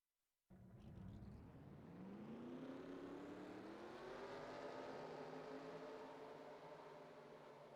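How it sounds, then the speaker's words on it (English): Race car engines in a stock car racing video game fire up together at a road-course race, a sudden loud roar that settles into a steady, layered rumbling drone of many engines idling and revving. "Drivers, start your engines."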